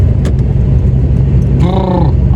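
Steady low engine rumble and road noise fill a car cabin while driving, with a brief harmonic tone rising near the end; no one speaks.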